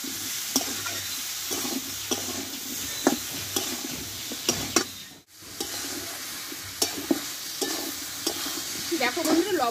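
Tomatoes with salt and turmeric sauté in a pan for a pumpkin dish, a continuous hissing sizzle marked by repeated spatula scrapes and taps, with a brief dip in the sound midway, heard up close.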